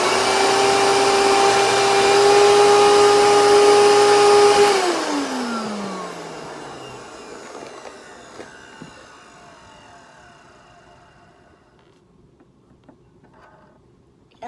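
A Eureka Victory vacuum cleaner runs loudly with a steady whine, then switches off and winds down, its pitch sliding lower as the motor coasts to a stop and fades into near silence.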